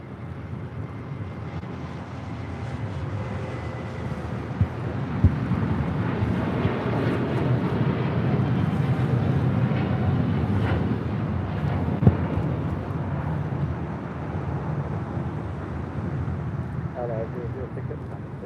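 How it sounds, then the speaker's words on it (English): Boeing 787-9 Dreamliner airliner in Jerusalem of Gold livery taking off at LAX for Tel Aviv, a steady broad roar sustained throughout at moderate distance, mixed with wind buffeting and a few faint knocks. "This is LL Flight 6 taking off to Tel Aviv on a 787-9 Dreamliner in the Jerusalem of Gold livery"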